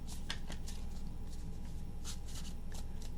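Tarot cards being shuffled by hand, a series of quick papery riffles and flicks at close range over a steady low background hum, with no talking.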